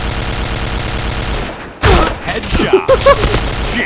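Grenade explosions in the shooter game Point Blank with a modded K-400 grenade, rapid gunfire followed by a sharp blast and scattered booms and debris, loud and close, with faint talk.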